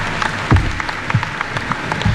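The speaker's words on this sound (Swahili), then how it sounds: "mimi mnipigie makofi kwa yale nimefanya" Applause from a large audience at the 45th KESSHA conference in Kenya, presided over by President Uhuru Kenyatta, a distant, steady wash of clapping with a few louder low thumps scattered through it.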